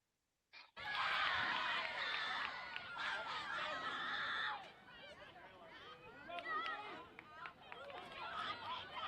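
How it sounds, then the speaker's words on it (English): Crowd at a youth Class of 2029 lacrosse game between Long Island Black and Pennsylvania bursts into loud, high-pitched cheering and screaming, then settles into lively chatter and scattered shouts. "Energetic crowd at the end of the day,"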